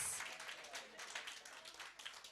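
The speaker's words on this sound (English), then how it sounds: "So to you as well, a round of applause." Audience applause at the Think Africa opening ceremony, a steady, fairly faint patter of many hands clapping through the whole moment with no pause.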